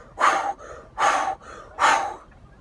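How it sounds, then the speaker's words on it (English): Deep breathwork breathing, three strong forceful breaths drawn in a steady rhythm, close and loud, each followed by a softer exhale. "I'm talking like a 2-hour breathwork session of just breathing like"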